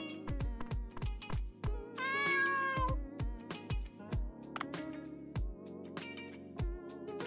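A cat in the game Dave the Diver meows again and again in short, clear calls, one drawn-out mew in the middle, each set against soft, regular thumps, and no talk.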